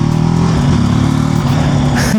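Apache RTR 310 motorcycle engine revving on a first ride, a loud close throaty drone with steady pulsing and a brief rise near the end.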